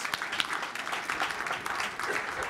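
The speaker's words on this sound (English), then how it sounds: "Give them a big round of applause" Crowd at the 2015 Ippies Awards ceremony applauding the standing judges, a sustained roomful of clapping with a few sharper individual claps standing out.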